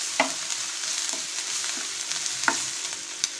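Ginger garlic paste sautéing in a pan, a steady soft sizzle broken by a few sharp spoon-against-pan clinks as it is stirred, close and alone with no talk.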